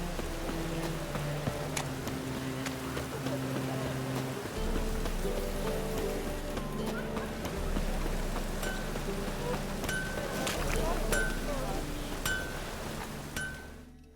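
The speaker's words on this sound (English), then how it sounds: "Witches have conjured rain." Steady rain pattering on surfaces in The Witcher 3 video game, a continuous wash of drops with occasional clinks over low background music, lasting throughout and fading at the end.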